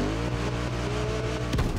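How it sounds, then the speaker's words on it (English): A car engine in the racing video game The Crew Motorfest holds a loud, sustained, close rev with a steady droning pitch that swells briefly near the end, with no talking. "he revving over here"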